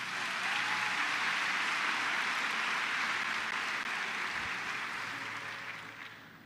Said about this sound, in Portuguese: uma salva de palmas para o Ian